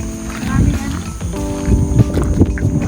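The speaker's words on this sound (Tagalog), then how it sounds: "May kabayo." A horse walks along a river trail at a resort, its hooves clip-clopping in an irregular rhythm under people talking, with music and crowd noise in the background.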